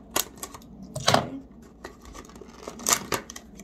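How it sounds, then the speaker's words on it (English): Plastic makeup brush packaging sliced open with scissors, giving a few sharp snipping and crinkling sounds close to the microphone, with a louder cluster of cuts near the middle and another near the end. "So, we're going to cut this across."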